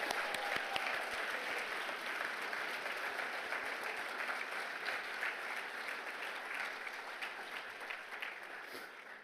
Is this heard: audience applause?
yes